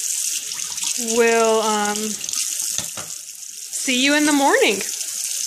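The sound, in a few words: running tap water rinsing milk off a thermometer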